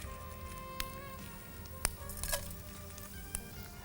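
Dried red chillies sizzle in hot oil in a home cooking pan, a steady, low frying crackle with a few sharp pops and clinks of a utensil stirring, fairly quiet and with no talking.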